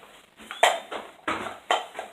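Mixing bowls clatter and knock together in a home kitchen, several sharp clinks and scrapes in quick succession, close and fairly loud with no talk over them.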